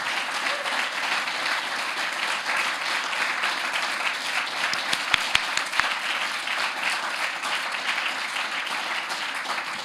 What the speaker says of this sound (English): And I want us to really applaud the translators.